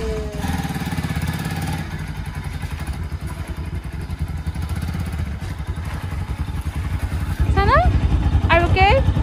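A new Bajaj Pulsar NS 200 ABS motorcycle idles nearby with a steady, low, thrumming engine pulse that grows louder toward the end. Voices talk over it, and a few brief chirps sound near the close.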